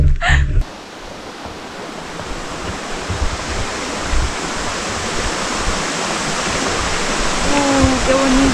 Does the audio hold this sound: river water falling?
yes